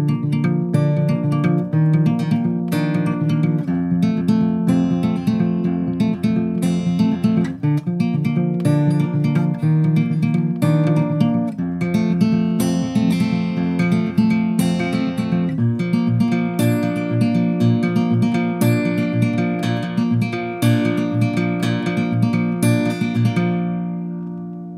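Acoustic guitar fingerpicking the chord progression of a song, a steady, continuous rolling pattern of plucked notes played close and alone for about twenty-five seconds, ending on a final ringing chord.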